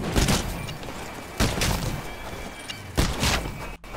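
Gunfire in the Titanfall training course, three heavy bursts of shots spaced about a second and a half apart, each loud and booming with a rumbling tail.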